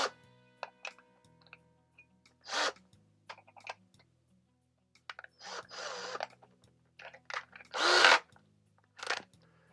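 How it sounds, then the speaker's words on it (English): A power drill with a 3/16-inch bit runs in short separate bursts while drilling a hole during a Showermiser installation, with quiet clicks and handling noises between the loud whirring spurts. "put that into your drill."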